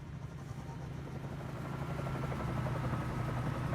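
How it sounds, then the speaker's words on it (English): A Bell 47J Ranger helicopter fitted with floats lifts off in a flight game, its steady engine drone and rotor chop rising slightly in intensity throughout, with no voices. "So we got our Bell 47J Ranger with floats"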